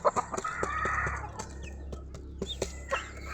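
Newly hatched Black Astro chicks and chickens cluck and peep close by in a farmyard over a steady low hum, with short calls coming in irregular bursts.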